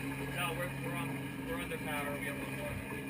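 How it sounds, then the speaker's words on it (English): An offshore racing powerboat running on one engine drones steadily at a distance, faint and muffled, with indistinct voices underneath the hum. "They have one engine running"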